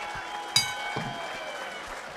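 Boxing crowd at a ballroom fight night applauding as a sixth-round bout ends, a sharp burst of clapping rising then settling into steady murmuring cheers, with a commentator talking over it.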